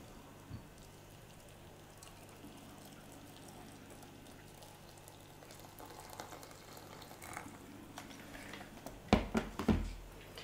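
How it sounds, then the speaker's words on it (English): Boiling water is poured onto soursop leaves in a teapot as a soft, steady trickling hiss. It is faint at first, then ends in a few louder splashy bursts. No one speaks. "I will add about 3 cups of boiling water"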